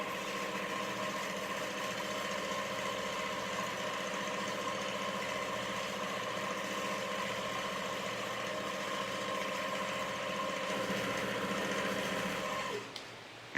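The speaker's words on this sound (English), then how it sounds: "listen to the smoothness of my machine while I'm free motion quilting" A Quilt Maker Pro 18 sewing machine running steadily through free motion quilting, a smooth continuous motor hum with even stitching that holds close and constant, then cuts off abruptly near the end.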